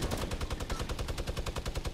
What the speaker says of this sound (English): All I hear is gunshots, but don't see a single enemy.